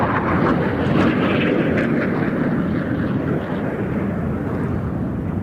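Czech L-159A Alca jet flying at an airshow, a loud continuous roar of jet engine noise with broadband rumble and some wind buffeting, holding steady throughout with no voices.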